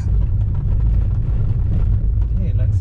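BMW E36 engine running with its VANOS system, a loud, dense low rumble that stays steady throughout, with a voice heard over it.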